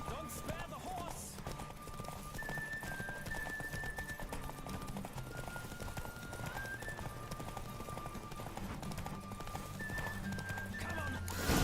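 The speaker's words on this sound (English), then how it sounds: "Don't spare the horse." Horse galloping in The Witcher 3, rapid rhythmic hoofbeats running steadily throughout at moderate level with an occasional whinny, accompanied by game music tones and some voices talking over it.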